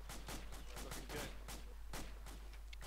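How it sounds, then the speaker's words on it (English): Distant gunfire in a tactical military video game, a town-sweep mission, heard as scattered sharp bursts and single shots from the far side of a building, fairly faint and steady across the moment with no talk. "Sounds like we have gunfire on the opposite side of this building."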